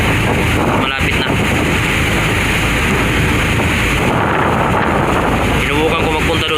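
Strong wind buffets the microphone on an open ferry deck at the pier near Masbate, a loud, steady roar with the rumble of water and boat below, gusting throughout.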